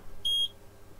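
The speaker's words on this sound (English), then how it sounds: "One beep." An Arduino board gives a single short, high electronic beep while a bootloader uploads, clear and pure over faint background hiss.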